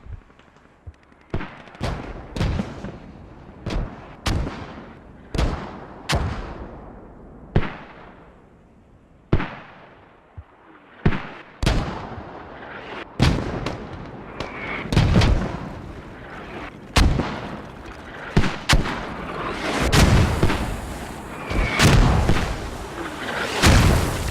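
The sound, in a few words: mortar shells exploding in a video game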